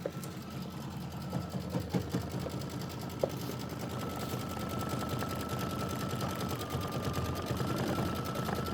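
Embroidery machine stitching a patriotic hearts design, a steady faint mechanical whir with a fast rapid ticking rhythm, continuous throughout with no talking.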